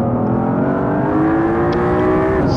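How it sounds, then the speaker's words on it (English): A Mercedes C63 AMG engine in Assetto Corsa is held at a loud, steady high rev for a standing burnout, its pitch slowly climbing before a slight drop at the end, with no talking. "let's see if we can do a standing burnout"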